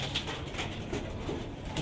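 Soft, low cooing of a Chinese Kamagar male pigeon, faint and a short distance away, under a steady background hum with a few brief higher bird notes.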